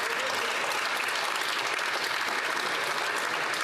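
Members of the House of Commons break into sustained applause, a dense and steady roar of many hands clapping at once.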